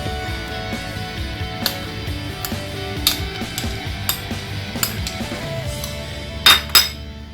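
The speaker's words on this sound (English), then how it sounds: "Now mix it properly" A spoon stirs fresh cream and chopped Snickers in a bowl, producing steady soft swishing with a series of distinct clinks against the side and a couple of sharper knocks near the end.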